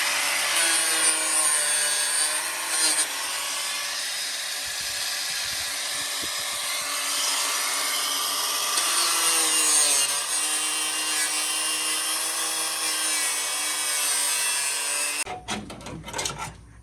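A Milwaukee power tool cuts through a car part during a wheel job on a bagged Miata, giving a continuous high, whining grind close by that stops abruptly near the end.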